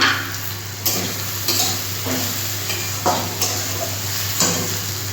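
Salt, turmeric and red chilli powder fry in hot oil in a pan for a spicy small-fish and okra dish, with a steady sizzle and a spatula scraping and stirring about once a second, close up.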